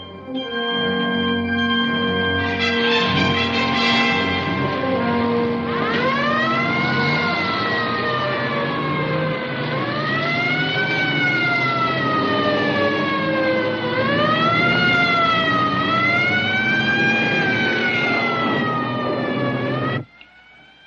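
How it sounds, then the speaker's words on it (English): A loud wailing siren rises and falls continuously for about twenty seconds, sustained without breaks, then cuts off abruptly. "That's not the crash siren. Listen, it's constant."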